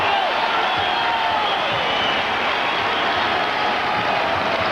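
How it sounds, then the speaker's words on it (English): Basketball arena crowd at a New Mexico Lobos home game against Tulsa, a dense, loud roar of cheering and whooping that swells steadily as fans rise to their feet, sustained without a break. "And the crowd comes to its feet."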